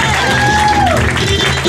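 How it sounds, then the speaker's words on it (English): A comedy club crowd clapping and cheering for a comedian at a stand-up competition, loud and close, with voices and whoops mixed into a short burst of applause. "Please give a warm round of applause for Peter Marr,"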